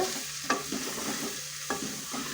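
Dal frying in a pan with chili powder stirred in gives a soft continuous sizzle, with a few quick scraping stirs standing out close by.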